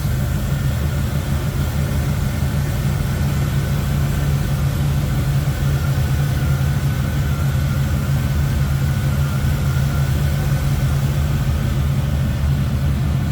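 A 1984 Chevrolet K10 regular cab short box pickup engine, fitted with headers, runs at a steady smooth idle, a constant low rumble filling the whole stretch with no pauses and no voices.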